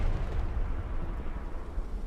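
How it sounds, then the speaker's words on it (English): Deep rumbling booms from artillery explosions in the video game Hell Let Loose, Hürtgen Forest map, roll together in a continuous low roar, loud and close, without any talking. "Artillery just doing work."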